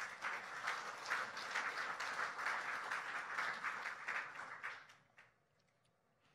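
A church congregation applauds in a dense, sustained wave of clapping that holds for several seconds, then fades quickly into near silence.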